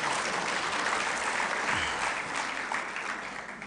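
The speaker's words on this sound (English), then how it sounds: "Ladies and gentlemen, a round of applause." Sustained applause from a large audience at the opening ceremony of an intellectual property organisation session, dense and even clapping filling the hall without voices on top.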